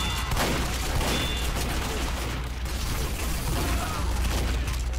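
Shotgun blasts fired at zombies in Team Fortress 2, a loud, continuous barrage of game gunfire and mechanical clatter with no pauses between shots, up close.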